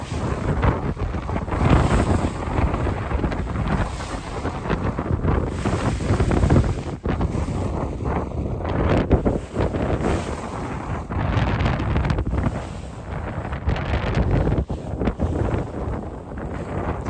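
Strong wind of about 25 knots gusting to 30 roars steadily across the microphone aboard a sailboat on a solo passage to Harbor Island, with water and waves churning underneath throughout.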